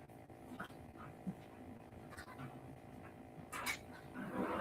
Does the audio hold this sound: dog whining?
yes